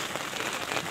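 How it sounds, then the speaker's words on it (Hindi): Heavy monsoon rain pours steadily at a campsite in India, a dense, continuous hiss of drops drumming on a surface with no voices. "देख सकते हो आप बहुत ख़तरनाक बारिश लगी हुई है बाहर"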